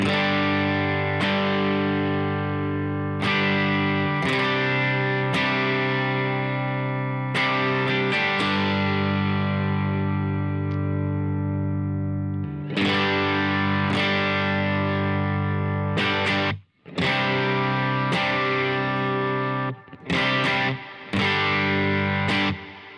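An electric guitar through a boost pedal plays chords and single notes with a boosted, slightly overdriven tone, ringing out between strums, with a brief silent gap near the end.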